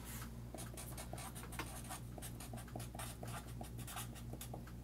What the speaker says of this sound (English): I always have a stack of index cards nearby so that when that new idea comes up, I write down that new idea.